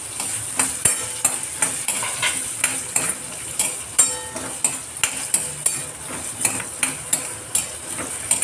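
Peanuts, roasted chickpeas, coconut, ginger and chillies are dry-roasted in a pan while a spoon stirs them, giving a steady rhythmic scraping and clinking with a soft sizzle throughout, close and fairly loud.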